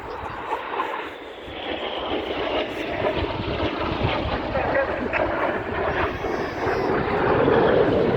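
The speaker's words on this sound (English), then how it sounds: "Each pair will now dive down to only 100 feet above the airfield." Red Arrows jets diving low over the RAF Cosford airfield at an air display, a broad, swelling engine roar that grows louder toward the end, heard from the crowd under ongoing commentary.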